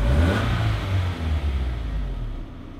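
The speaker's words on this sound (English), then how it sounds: "Alright, rev it again." A Nissan S13 engine revs up loud and close in a single burst, then the roar slowly winds back down over a couple of seconds with no talking.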